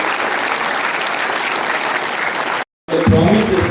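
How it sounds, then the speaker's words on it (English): A crowd claps steadily in sustained applause, cutting off briefly near the end before resuming loudly. "a great round of applause for your success"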